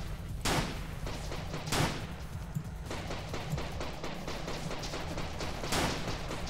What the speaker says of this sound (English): We'll use the sniper rifle for now.